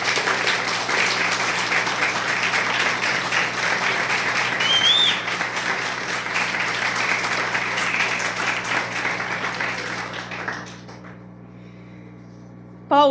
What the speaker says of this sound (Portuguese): Você pode aplaudir a Jesus pela vida dele?